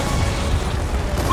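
A grenade explodes in the Gears of War 4 video game as a loud, sustained rumbling boom that fills the whole moment, with no voices over it.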